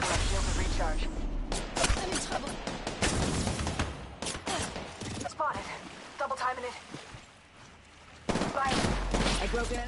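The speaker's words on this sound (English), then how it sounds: "Thanks for the cover fire, bro." Rapid bursts of video game gunfire laying down cover in a shooter match, loud and dense with repeated volleys and brief lulls, mixed with other game effects and occasional talk.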